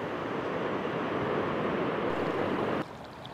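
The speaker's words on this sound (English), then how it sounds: "Here we've got a stream flowing along straight into a sea cave" A stream runs straight into a sea cave on Wharariki Beach, giving a steady, loud, broadband rush of flowing water close by that cuts to quieter surf just before the end.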